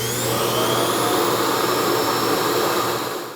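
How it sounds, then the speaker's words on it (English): A Roborock Q Revo docking station suctions debris out of a robot vacuum's dustbin into its bag, a loud, steady whooshing roar with a faint high whine, sustained for several seconds before trailing off at the end. "the dock will suck everything out of the robot vacuum and into the bag"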